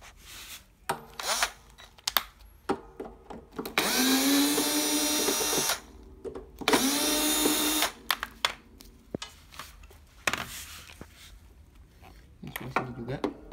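Power tool backing out the body bolts of a Fortex press (type 3838 or 4060), two loud whirring bursts of a few seconds each, close up, between metallic clinks and handling clatter, with brief talk in between.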